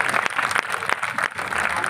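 An audience at a Hindu religious festival, a Dhanush Bhang Mahotsav bow-breaking celebration, claps in a dense, steady patter of many hands, with a voice heard over the applause.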